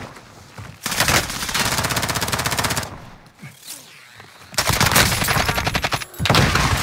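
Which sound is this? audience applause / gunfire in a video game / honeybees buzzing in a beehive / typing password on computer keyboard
gunfire in a video game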